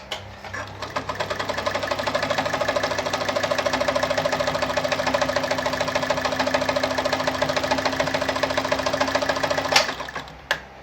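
A Kayser model 138 automatic sewing machine stitching zigzag, running at a steady fast clatter with an even rhythmic needle knock and motor hum for about ten seconds, close and loud, then slowing to a stop.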